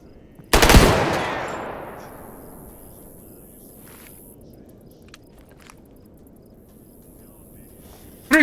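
A single loud, close gunshot from a .357 Magnum in the video game Stalker Gamma, ringing out into a long fading tail over faint background hiss.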